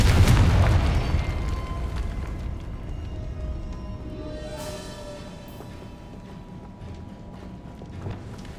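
A Confringo spell in Hogwarts Legacy lands with a loud, deep blast at the start, then a long rumbling decay and crackling debris that fade gradually over several seconds.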